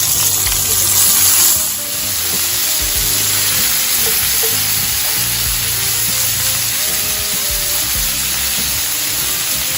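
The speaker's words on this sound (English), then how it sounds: "I'm going to start sauteing our peppers, garlic, and the onions. And we're going to add the peppers." Peppers with garlic and onions sautéing in a hot pan for short ribs, a loud, dense, continuous sizzle with faint stirring, close by, no talking.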